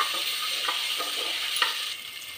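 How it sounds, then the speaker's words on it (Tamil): Ginger garlic paste and turmeric fry in hot oil in a cooker, giving a steady close hiss of sizzling with faint stirring scrapes. "நல்லா எண்ணெயில் ஃப்ரை பண்ணி விடலாங்க"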